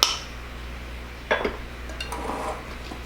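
Sugar and dry ingredients for peach cobbler batter go into a bowl, giving a sharp clink at the start and then a few soft clinks and scrapes of utensils against dishware, close and moderate, with no talking.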